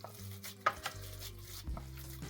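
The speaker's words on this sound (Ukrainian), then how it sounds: "Тепер все це солимо, перчимо за смаком. Все це перемішуємо гарнесенько." Seasoned minced meat with salt, pepper and garlic is stirred in a bowl, with soft squelching and a few light scrapes and taps of a utensil, quiet and close.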